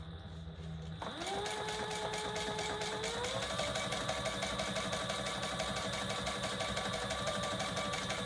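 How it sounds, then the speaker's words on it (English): Domestic sewing machine stitching through Peltex interfacing for a bag, starting after a brief pause then running at a steady fast whir with a rising motor tone, close and alone. "we're just gonna stitch around that to secure it in place."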